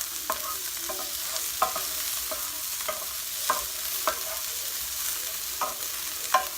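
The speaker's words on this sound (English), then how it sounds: "One of my favorite things to caramelize is onions and garlic." Onions and garlic sizzle steadily in a hot pan, a close, even fry punctuated by regular clicks and scrapes of stirring, with no talking.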